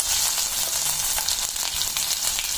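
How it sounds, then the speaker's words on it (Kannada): Mustard and cumin seeds sizzle in hot oil in a pan for palak paneer. A loud, dense, steady hiss is dotted with rapid crackles and pops from close by. "ಎಣ್ಣೆ ಕಾದ್ಮೇಲೆ ಅದಕ್ಕೀಗ ಸಾಸಿವೆ ಜೀರಿಗೆ ಹಾಕ್ಕೊತಿದ್ದೀನಿ"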